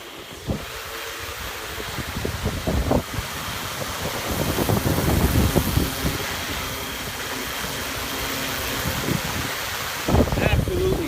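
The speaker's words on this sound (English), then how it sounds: "This is the Q500 in extreme wind. It's blowing gusty out here." Strong, gusty wind buffets the microphone outdoors in an open area where a Yuneec Q500 drone is flying, a loud continuous roar that surges in waves with occasional sharp gust bursts.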